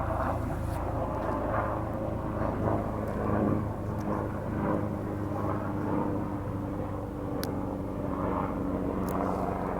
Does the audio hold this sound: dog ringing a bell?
no